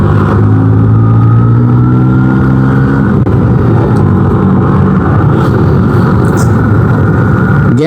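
A Vespa scooter engine revs loud and close while riding, its note climbing and shifting up through the gears before settling into a rough steady drone, with wind rush and faint talk underneath.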